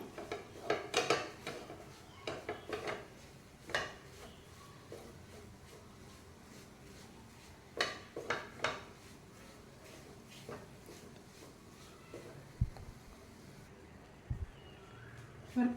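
A spoon stirs a flour mixture frying in ghee in a pan, with scraping and clinking against the pan in irregular bursts, close but fairly quiet over a low background hum.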